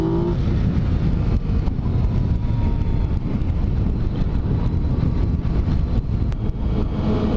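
A Cobra sports car drives past outdoors on a chilly day, its engine a loud, steady rumble that dominates throughout, with no talk.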